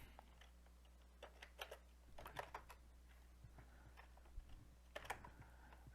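Faint typing on a computer keyboard, irregular soft key clicks and short bursts of taps over a steady low hum, with no speech.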